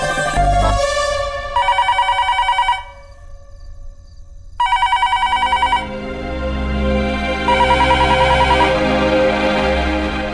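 Telephone bell rings loud and close in a home, repeated bursts of ringing separated by short pauses, with background music swelling between rings.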